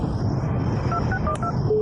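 A phone keypad sounds a short string of distinct dialing tone beeps over a constant background hum.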